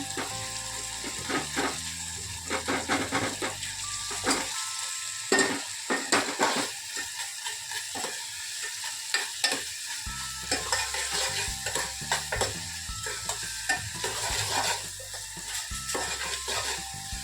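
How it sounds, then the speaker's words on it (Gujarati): A spoon stirs spices into ridge gourd curry frying in a pan, producing steady scraping and rhythmic clattering strokes over a constant sizzle, close and loud with no talking. "હવે મસાલો મિક્સ કરી દેવાનો।"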